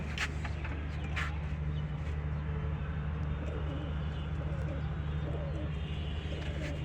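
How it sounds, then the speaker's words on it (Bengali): A pigeon coos close by over a steady low background hum, its soft calls repeating through the stretch. "আজকে আমার পাশে একটি কবুতর আইছে"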